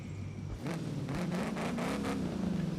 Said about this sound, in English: Cobra's just revving. This is idling.